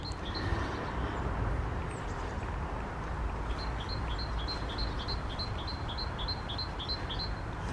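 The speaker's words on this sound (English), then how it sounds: "you can hear the birds tweeting and it sounds really nice" Birds chirp in a churchyard, a repeated run of short high tweets from around the middle onward, moderately near, over a steady low background rumble.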